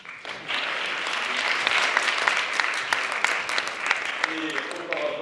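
An audience applauds at a cultural event in Strasbourg, a dense and sustained round of clapping that swells quickly and holds steady to the end.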